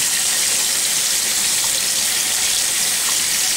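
Tap water gushing loudly and steadily over skinned raw chicken pieces in a kitchen sink, a constant close rush of running water with no breaks.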